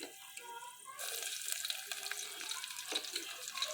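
Cumin and mustard seeds drop into hot oil, and after a quiet second a sudden bright crackling sizzle bursts up and continues steadily, close to the pan.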